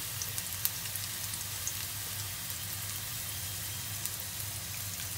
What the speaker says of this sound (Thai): จะทอดเรื่อยๆเด้อจ้ะเด้อไปจนสุกพุ่นล่ะ